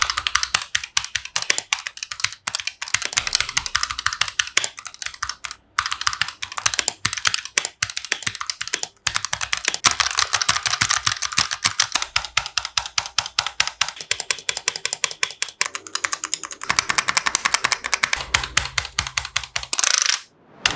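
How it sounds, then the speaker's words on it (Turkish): Steady, continuous typing on an Asus TUF Gaming K7 optical-mechanical gaming keyboard, crisp close-up key clicks and clacks in fast irregular bursts with brief pauses, no voices. "Klavyemizin tuş sesine de birazcık yakından bakacak olursak"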